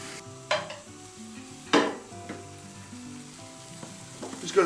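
Vegetarian spicy noodles stir-fried in a pan, a steady sizzle broken by a few sharp scrapes and clatters of a utensil against the pan, close by with no talking.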